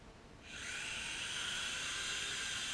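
A small indoor drone taking off and hovering, its high-pitched whine rising quickly from quiet and holding as a steady buzzing hum.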